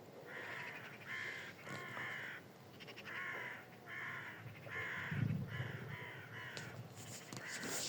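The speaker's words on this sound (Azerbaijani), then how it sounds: "qarğa səsi, quş səsi gəlir" Several crows caw repeatedly in a farmyard near a sheep barn, harsh calls coming in short bursts across the whole stretch, fairly close, with no talking.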